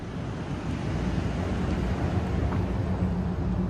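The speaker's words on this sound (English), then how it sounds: "There is kind of a weird wind sound surrounding the shell." Processed, organic wind sound surrounding the alien shell in the film Arrival: a steady, dense, hollow rush with no breaks, loud and even throughout with no voices.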